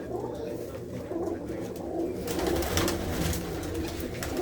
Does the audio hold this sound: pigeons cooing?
yes